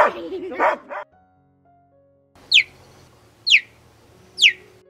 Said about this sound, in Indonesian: Gonggongan serigala sangat mirip seperti anjing peliharaan.